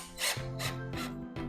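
A screw is driven into the side body panel of a 2023 Toyota GR Supra A90 during a dashcam install, with four rhythmic, rasping turns close by and no talk over them.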